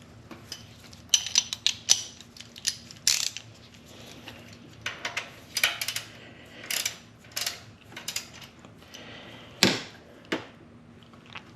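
A ratchet tightens a fitting on an oil catch can fitted to a 5.7 Dodge Challenger. Quick bursts of close, crisp clicking come in uneven spurts with short pauses between them, and no one speaks.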